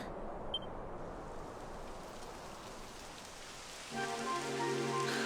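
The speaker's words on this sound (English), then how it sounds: "It would have to go and start raining, wouldn't it?" Steady rain in a video game patters as a constant wash of noise, joined near the end by a sustained tonal hum layered over the downpour.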